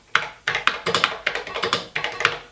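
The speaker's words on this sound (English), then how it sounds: "That's just the sound of the keys hitting the bottom of the thing" Close, crisp typing on a Televideo Model 950 computer terminal keyboard: a quick irregular run of sharp clacks and taps, about a dozen keystrokes in a few seconds, with no talking.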